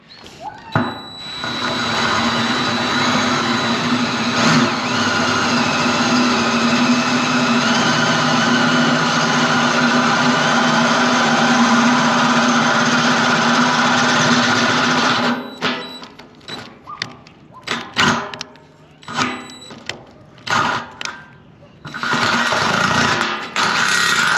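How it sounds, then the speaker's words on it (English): A drill whines steadily for about fifteen seconds, boring holes through metal for fenders on a Peterbilt 359 truck, then stops, followed by scattered clunks and handling noises. "get the appropriate size drill bit and drill the holes that big."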